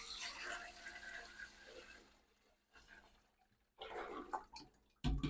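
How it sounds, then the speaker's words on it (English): Homemade bone broth being poured into a clean stock pot, a soft splashing and trickling pour that fades to a pause, then resumes with fuller sloshing and a final louder splash. "I'm going to take this now over here, and I'm going to pour it in my clean stock pot"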